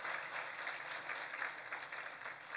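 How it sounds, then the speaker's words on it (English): An awards-ceremony audience applauds committee members at a public safety awards event, a continuous even patter of many hands, fairly soft and distant, with no talking over it. "We can give our round of applause to the committee members."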